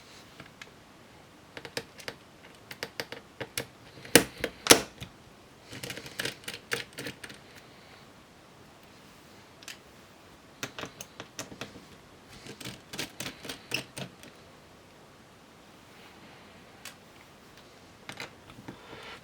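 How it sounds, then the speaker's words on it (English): Small screws being taken out of the keyboard shield on a Dell Latitude 7390 laptop: bursts of light metallic clicks and ticks in scattered clusters, close and fairly quiet, with pauses between them. "This involves removing all these screws around the edge, and will just take a couple minutes"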